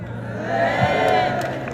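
A church congregation cheers and shouts together in a loud, brief swell of massed voices, with little distinct clapping audible.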